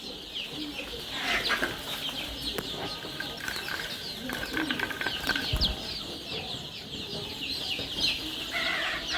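A batch of 14-day-old native chicks, about a thousand together, keeps up a steady busy chorus of overlapping high chirps and peeps throughout, with occasional louder calls over a constant farm background.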